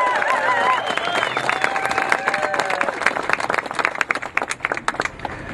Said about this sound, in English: So I want you guys to give yourselves a round of applause for being out here on a Saturday